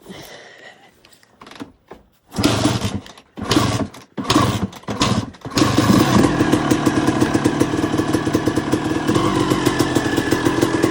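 A 2002 Suzuki RM250 two-stroke dirt bike gets kicked over a few times in short bursts, then catches and idles loudly and steadily up close during a heat cycle on a freshly restored engine.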